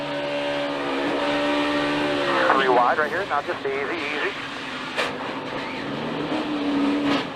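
A NASCAR Cup Series stock car engine roars onboard, rising and falling sharply as the throttle lifts and the car spins, loud and close, with radio talk over it.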